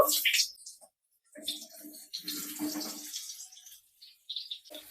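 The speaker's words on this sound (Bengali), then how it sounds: "এবার কেটে রাখা ঝিঙেগুলো দিয়ে দেব।" Chopped ridge gourd goes into hot oil with tempered spices in a pan for a Bengali gourd and small fish curry, giving a hissing sizzle in uneven bursts that fade and swell over several seconds.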